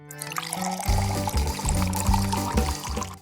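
Water poured into flour to make pasta dough, a short, steady pour with gurgling, bubbling rhythm at close range, fairly loud and without talk.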